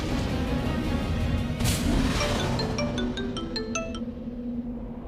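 An unanswered phone call rings out in a series of short repeated electronic tones over a busy, loud background wash.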